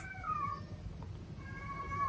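Cat meowing faintly in the background of a quiet indoor room: two thin drawn-out cries, one early and one near the end, over a low steady hum with no talk.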